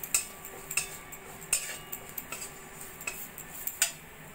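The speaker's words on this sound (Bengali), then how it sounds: "বেসনটা একটু পেঁয়াজের সঙ্গে ভাজা ভাজা করে নেব।" Gram flour being stirred and fried with onions in a pan for paneer kachuri, heard as light, scattered scrapes and clinks of a utensil against the pan, faint and without talk.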